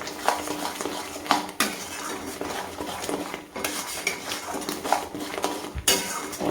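Ground coriander, cumin, garam masala and black pepper being stirred and fried in a pan, with repeated scraping and clinking of a utensil against the metal over a faint sizzle.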